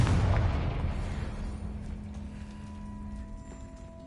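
A Confringo fire-blast spell bursts in Hogwarts Legacy, a loud deep boom that rolls out into a long fading rumble with faint lingering tones afterward.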